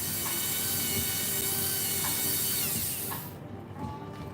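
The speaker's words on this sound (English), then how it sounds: "Let me shut off the Dremel here for a second." A Dremel rotary tool used for cutting fire opal, whining steadily at high speed and then spinning down as it is switched off near the end.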